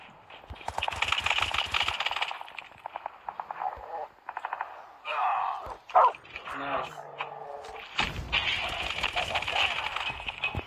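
A dog barks and yips a few times among Call of Duty Mobile game sound effects, with a voice talking over it.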